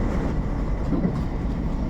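A train rumbles along on its rails: a steady, low, continuous roar with no pauses or voices.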